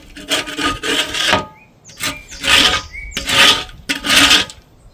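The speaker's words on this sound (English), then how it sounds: "grab my scraper, and just scrape" A scraper drags across a smoker heat shield to remove baked-on residue in four or five rough, rasping strokes, each lasting about a second with short pauses between, close and fairly loud with no talk.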